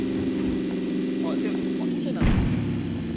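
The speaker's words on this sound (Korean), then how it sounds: "앞에서 총소리 나는데?" Sharp bursts of gunfire ring out over a steady engine drone, with one louder blast near the end, sounding like distant shooting in the video game PUBG (Battlegrounds).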